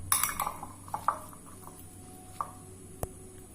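Egg chaat being mixed in a bowl, giving a cluster of quiet clinks and scrapes of a spoon against the bowl in the first second, then a few sparse taps and one sharp knock near the end.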